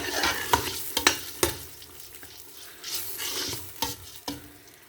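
Chicken pieces with spices sizzling and frying in a pan for pasta, a steady crackling hiss broken by repeated scraping stirs and clacks of a utensil, close and fairly loud, with no talking.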